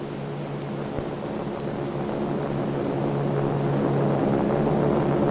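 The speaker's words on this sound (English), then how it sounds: "Aeroplanes. They are here." Aeroplanes approaching in an old Charlie Chan film: a steady droning engine roar that holds and slowly swells over several seconds, with no talk.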